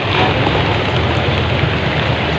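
Rain pours steadily at sea around a fishing boat, a loud, dense, unbroken hiss close by with no clear breaks.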